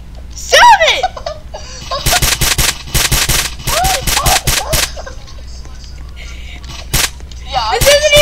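Rapid automatic gunfire rattles in the Roblox video game in several loud, close bursts, with voices and laughter around the shots.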